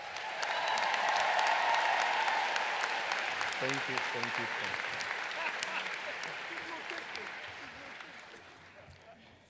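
A commencement crowd gives sustained applause for professors and mentors, swelling loud at first and slowly fading, while a speaker at the podium talks briefly over it.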